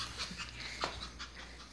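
A Shih Tzu puppy pants in quick, soft breaths close by, with a faint whimper or yip in the middle; no one speaks.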